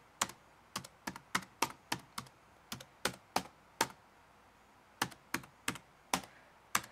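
Keys clack on a worn IBM ThinkPad T42p laptop keyboard in irregular bursts of sharp, close taps, a short pause breaking the typing midway, with no voices.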